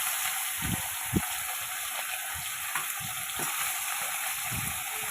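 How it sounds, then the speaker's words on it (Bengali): Fish frying in hot mustard oil in a pan gives a continuous close sizzling hiss, broken by soft scattered pops and spits, with no voices. "সর্ষের তেল থেকে ধোঁয়া উঠতে শুরু করলে মাছগুলো অল্প অল্প করে দিয়ে ভেজে নেব"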